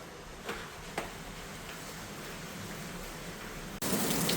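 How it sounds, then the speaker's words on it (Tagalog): Heavy rain pours steadily in the mountains of Koh Chang, Thailand, a dense constant hiss with a few louder drips and knocks, surging suddenly heavier near the end. "Ang lakas ng ulan"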